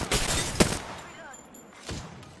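Gunfire in the Apex Legends game comes as a quick burst of rapid shots up close, then a pause and another short shot, with voice chatter woven through.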